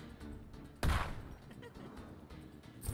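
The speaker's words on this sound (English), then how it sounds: "Oh, the explosion." An explosion in the Wargroove 2 video game lands as a sudden loud blast with a crackling, fading tail, followed by a second shorter burst.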